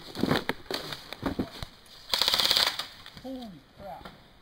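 Airsoft guns fire in rapid bursts during a close-quarters 3v3 game in a schoolyard-style field, rattling near and loud, with brief voices and shouts between the volleys.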